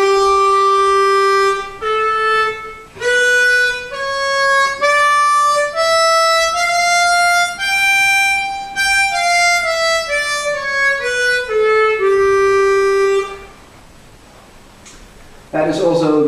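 A harmonica plays a dominant scale with a sharp 11 up and then back down, note by note in even steps, clear and close, followed by a short noisy burst.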